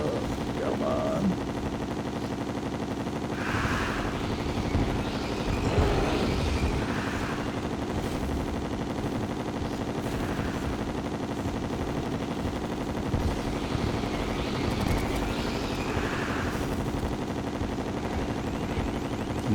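Chlorophyte bullets firing in Terraria during a boss battle, a continuous rattling stream of rapid shots under a steady drone, with occasional brighter impact bursts scattered throughout.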